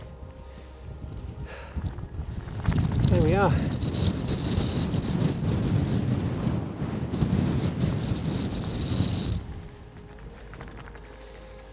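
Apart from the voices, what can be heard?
strong wind blowing on a moorland hilltop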